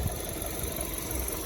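A Volkswagen Golf Mk7 with a 1.2 TSI Bluemotion engine, warmed up after a drive, runs in a steady, close drone with a low mechanical rumble that holds constant throughout.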